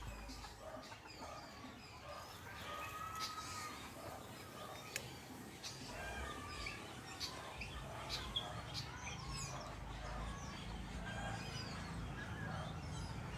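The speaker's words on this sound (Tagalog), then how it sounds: "Narinig nyo yung huni ng ibon?" Birds chirp and call intermittently in a quiet outdoor setting, the sounds thin and somewhat distant over a low steady background.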